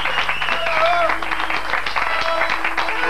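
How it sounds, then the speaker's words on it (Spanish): Studio audience applause on a television game show, a dense, steady wash of clapping filling the whole stretch, with a voice calling out over it. "¡Fuerte el aplauso!"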